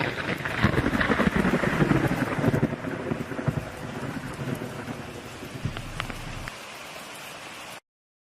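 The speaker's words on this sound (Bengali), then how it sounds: "আজও সকাল থেকে এই যে বৃষ্টি শুরু হয়েছে, থামবার কোনো নামগন্ধই নেই" Cartoon rain and thunder from a Thakumar Jhuli animation: a heavy rumble of thunder swells over pouring rain in the first seconds, then the steady downpour continues before stopping abruptly.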